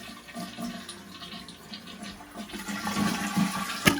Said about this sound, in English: Move the plunger, turn your water off, flush and get the water out of there.